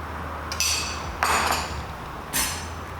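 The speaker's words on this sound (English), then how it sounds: "we're just going to mix him around just to emulsify the creme fraiche into the liquid" Spoon scraping and clinking against a metal cooking pot while creme fraiche is stirred into the cooking liquid of mussels with bacon and cider, three short bursts of scraping over a steady low background hum.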